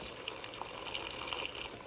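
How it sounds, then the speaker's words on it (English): Water is poured from a container into a chicken curry mixture in a pan, a soft, continuous splashing trickle lasting just under two seconds, faint and without any voices. "Now I'm just going to add a little bit of water to this"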